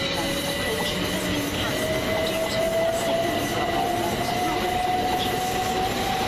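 A Govia Thameslink Class 387 electric train, unit 387119, runs through East Croydon station with a continuous loud rumble, a steady rising whine and faint wheel squeal throughout.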